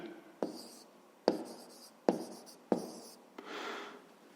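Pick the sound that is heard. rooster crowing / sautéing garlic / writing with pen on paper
writing with pen on paper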